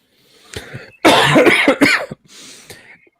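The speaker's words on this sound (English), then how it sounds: "Don't cough that close to me" A few harsh coughs close to the mic: a short one, then a loud burst of several rapid coughs, and a final softer cough after a pause.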